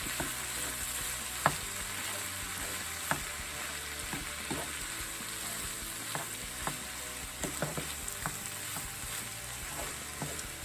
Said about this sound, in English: I'm going to stir the cauliflower rice down